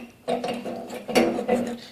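A tensioner pulley on the mower deck of a 1984 John Deere 111 lawn tractor being moved by hand, giving short metallic clunks and scraping ratchet-like rattles in a few close bursts.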